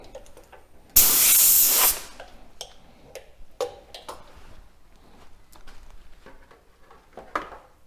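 A blast of compressed air blows sanding dust off sandpaper for about a second, loud and hissing up close, followed by scattered small ticks and taps in a quiet room.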